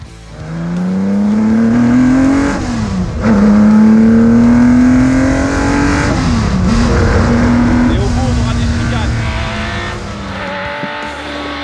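Historic racing cars roar around the Montlhéry circuit during the Tour Auto, one loud engine revving high and climbing through gears with sharp drops at each shift, a continuous close-up howl from start to finish.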